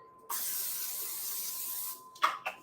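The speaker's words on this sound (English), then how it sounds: "We're going to spray this little pan." Cooking spray hisses from a can onto a small pan in a kitchen, one steady close spray lasting under two seconds, followed by two short, quieter bursts.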